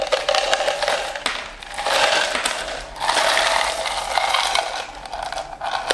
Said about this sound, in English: So into our 22-ounce cup, we're going to fill this with ice.